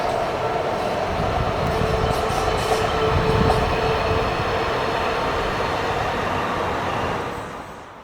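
A Rhaetian Railway narrow-gauge S-Bahn train crosses the old steel lattice Hinterrhein bridge with a steady metallic rumble and faint ringing overtones, loud and close, fading slightly at the end.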